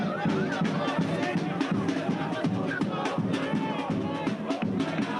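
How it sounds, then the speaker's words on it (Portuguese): Palmeiras fans fill the air with dense crowd noise at the team's send-off in São Paulo, a continuous roar of cheering and chanting voices at close range, unbroken from start to finish. "Foi uma despedida com festa e com muito carinho da torcida em São Paulo."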